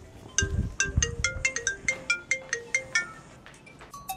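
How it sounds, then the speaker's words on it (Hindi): A mobile phone ringtone plays a rapid, repeating electronic melody of bright chiming notes for about four seconds, moderately loud with no talking over it. "मेरा फोन आ रहा है"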